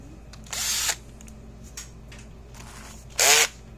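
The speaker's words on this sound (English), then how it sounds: "We're going to drill." A power drill with a small bit whirs in two short, close bursts separated by a pause, with faint clicks in between, while an electric fence energizer is being repaired.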